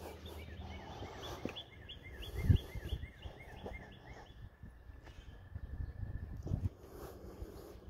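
Birds chirp and call outdoors in a park-like setting, a string of short repeated whistling notes running through the first few seconds over background rustle and a couple of thumps, fading later.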